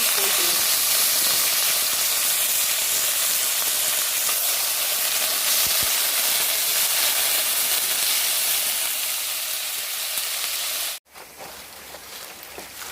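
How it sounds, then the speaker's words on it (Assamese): Potatoes hit hot oil in a small wok while radish greens are cooked, producing a loud, steady close hiss of sizzling that drops off abruptly near the end before resuming more quietly. "আলুখিনি দি দিওঁ এতিয়া।"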